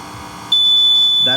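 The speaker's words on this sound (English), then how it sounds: "We're gonna go beyond that until we get to 6 beeps, and that's gonna set the speed of the frunk" An aftermarket power frunk kit on a Tesla Model Y gives out a sustained high electronic setup tone that starts abruptly partway through and holds steady, loud and close, with a voice briefly near the end.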